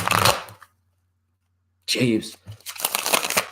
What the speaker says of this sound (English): Shuffle up again.